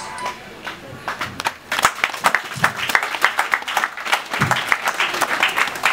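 An audience claps at a YMCA Isagatedo celebration honouring Bashorun Isola Olufemi Tonade, beginning with a few scattered claps before breaking into loud, irregular applause.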